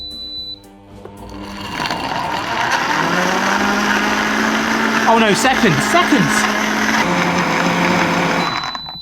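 A smart blender running in blender mode, its motor whirring steadily and loudly for most of the stretch, with a pitch shift partway through and a voice speaking briefly over it.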